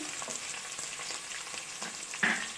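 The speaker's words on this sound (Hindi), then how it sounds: "तमाम हिस्सा बारी बारी डालते हुए हम फ्राई करते जाएंगे।" Green chillies frying in oil in a pan for radish curry, with a steady soft sizzle, light stirring clicks and one brief louder crackle near the end. No voices.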